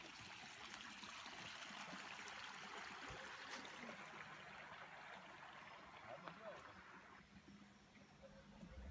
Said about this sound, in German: Dahinter ist die ganze Zeit dieser Bach